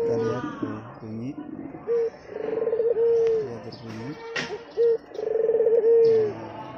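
A male puter dove (turtle dove) coos nearby in repeated rhythmic phrases of low, rolling notes, with faint background noise and other bird sounds.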